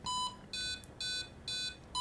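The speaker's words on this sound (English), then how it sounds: "the metronome uses just an internal beep sound" A Roadie 3 automatic guitar tuner beeps in metronome mode: short, bright electronic beeps repeat at an even pace of about two per second, clean and alone.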